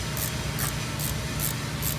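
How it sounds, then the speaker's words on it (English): PB Blaster penetrating oil is sprayed onto a stuck shock nut on an S10 truck in five short, evenly spaced hissing bursts, close up over a steady background hum. "Spray it down with PV Blaster, give it a chance."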